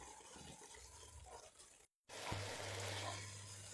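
Water pours steadily into a cooking pot of lentils and potatoes, a close, continuous gushing fill that follows a brief quiet break after fainter kitchen sounds.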